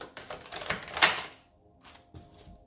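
Tarot cards slid and pulled from a deck, a quick run of close, crisp papery snaps and shuffles followed by a few softer flicks after a pause.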